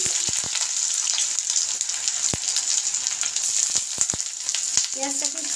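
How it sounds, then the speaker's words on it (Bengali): Two large chopped onions frying in hot oil for a spicy lemon chicken fry, a steady close hiss and sizzle broken by sharp crackles and spatters, with a faint stir near the end. "তেলটা গরম হয়ে গেছে, এখন আমি পেঁয়াজ কুচি দিয়ে দেবো"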